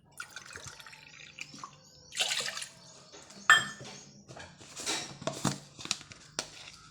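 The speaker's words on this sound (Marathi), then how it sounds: "त्यासाठी आपण 2 फुलपात्र भरून पाणी घेणार आहोत।" Water is poured from a small vessel into a pot to make tea at home, giving quiet, intermittent splashes and drips that come in short bursts close to the microphone.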